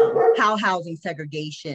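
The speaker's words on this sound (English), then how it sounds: "that's my dog in the background" A dog barks and yips in the background, a few short sharp barks mixed in with a person talking close by.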